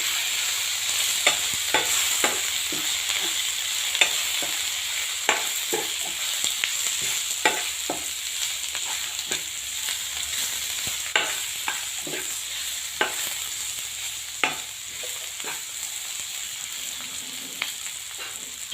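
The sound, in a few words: stirring spices, salt, cashews and peanuts in a pan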